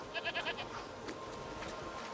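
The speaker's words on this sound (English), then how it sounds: "You're a nice goat, Lucinda. She loves you. Really? There. That's I love you in goat. You all right? She screamed at me" A goat bleats in A Plague Tale: Requiem, a few short, close, wavering cries in quick succession over a faint game ambience.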